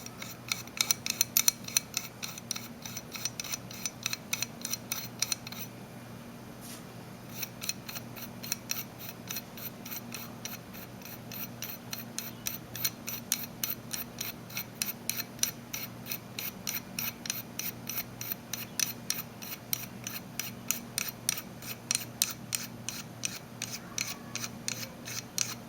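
A rifle barrel converter with very fine threads turned on by hand on an M&P 15-22 rifle, heard as a steady, rapid series of small metallic clicks and ticks up close with no talking.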